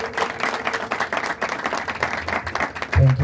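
Church congregation applause, a dense, sustained burst of many hands clapping, loud and continuous, with a low voice or music entering near the end.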